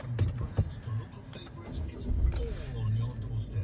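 A 2021 Citroen Dispatch 1.5 HDI diesel van with about 71,000 miles starts on a freezing day, its low engine rumble catching and settling into a steady idle close by, with keys and cabin rustling around it.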